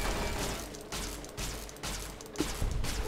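A weapon firing in a modded Fallout: New Vegas Lonesome Road session: a steady series of about six evenly spaced, fairly quiet shots, each a short broadband burst, with no talking.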